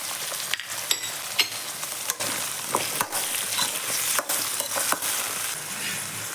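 Garlic, slit green chillies and chopped tomato sauté in a pan with onion for a kandankathiri marundhu kuzhambu, giving a constant close sizzle with many sharp spoon scrapes and taps at irregular intervals. No one talks.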